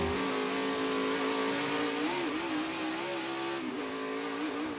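NASCAR Xfinity Series race car at Circuit of the Americas spinning its wheels, a loud continuous engine roar with wavering pitch as revs surge and dip, heard close from on board.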